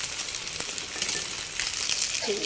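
Drained pasta tipped into hot oil in a pan, sending up a loud, steady frying sizzle with a few clinks and stirring scrapes near the end.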